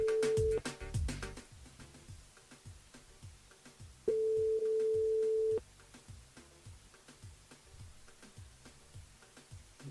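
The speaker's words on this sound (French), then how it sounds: "On rappelle Sandra ce soir." A telephone line rings out while a radio call-in host dials a listener: a steady tone burst, a silent gap, then a second 1.5-second tone, over a quiet room with faint ticking.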